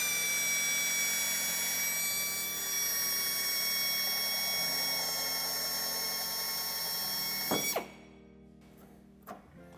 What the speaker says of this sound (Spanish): hacemos un orificio y haciendo presión sobre el taladro cortaremos este trozo